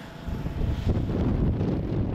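Steady wind buffeting the microphone, a loud low rumble with gusty texture throughout, no voices.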